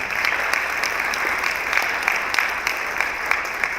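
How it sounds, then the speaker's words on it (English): Audience applause at a school district State of the Schools presentation, a steady dense clapping from a crowd filling the room, fairly loud and continuous with no talk over it. "So again, let's give a round of applause to George."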